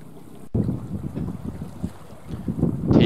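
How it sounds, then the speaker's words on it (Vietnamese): A Ninh Thuận fishing net boat heads back in to anchor and shelter from the wind, its engine a steady low chugging close by under heavy wind buffeting the microphone. The engine swells louder near the end. "Đây thêm một chiếc ghe lưới của Ninh Thuận nữa, cũng đang chạy về chuẩn bị neo đậu trú gió đây các bạn"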